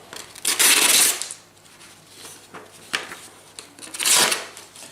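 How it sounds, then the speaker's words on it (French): A freshly sharpened knife blade, tested after honing on a Pyrenees sharpening stone, slices through a sheet of paper in two crisp rasping cuts with a slight catch, close and clear, with quiet handling between. "on entend bien quand je coupe la feuille que ça accroche un petit peu"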